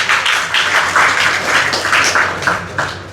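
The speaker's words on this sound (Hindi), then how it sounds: "अब तो ताली बज जाना चाहिए ना" Audience applause at an award ceremony honoring students in Meerut, steady dense clapping from a crowd lasting about three seconds, fairly loud and continuous with no talk over it.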